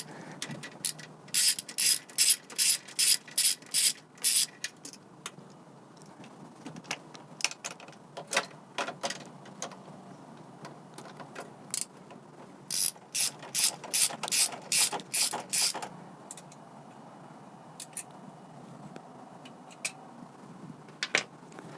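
A ratchet clicks in quick repeated bursts as it backs out two 10 mm bolts on a 1992 Honda Accord, close and crisp, with short pauses between the runs.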